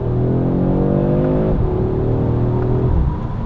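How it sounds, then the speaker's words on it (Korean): A car engine revs up through the gears, its rising tone dropping at each shift, loud and close with a throaty hum. "이 차가 들려주는 이 엔진 사운드는"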